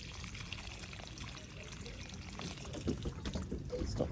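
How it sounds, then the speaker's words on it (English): Water poured onto plants and soil in a greenhouse, a steady continuous pour with a rougher splash toward the end, close and moderately quiet. "Going to give this a big water."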